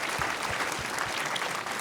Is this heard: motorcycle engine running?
no